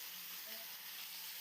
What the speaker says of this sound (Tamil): நம்ம நறுக்கி வச்சுருக்கிற கத்திரிக்காய் போட்டு வதக்கணும்